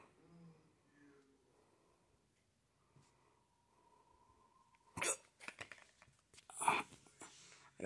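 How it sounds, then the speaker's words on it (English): A few quick hiccups sound close and fairly loud, with a couple of sharp bursts near the end, after a quiet stretch and a faint hum. "Got the hiccups."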